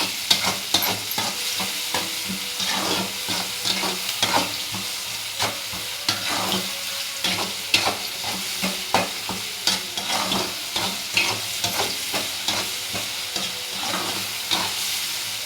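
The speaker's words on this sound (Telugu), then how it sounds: "ఇలా బాగా వేయించుకుంటే బాగుంటుంది. బాగా తిప్పుకుందాం." Tomatoes and mung dal fry in a pan while a spoon stirs them repeatedly, producing rhythmic scraping strokes over a steady sizzle, close and fairly loud.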